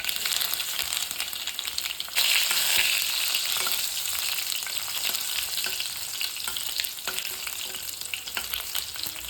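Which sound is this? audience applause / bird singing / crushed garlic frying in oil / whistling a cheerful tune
crushed garlic frying in oil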